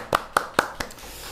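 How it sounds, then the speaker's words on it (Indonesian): Four sharp, evenly spaced hand claps ring out close by during a casual comedy talk session, followed by quiet. "Tepuk tangan."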